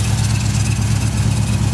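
Restored 1967 Chevelle Super Sport with a 454 V8 running at a steady, loud idle, a continuous deep rumble heard up close with no voices.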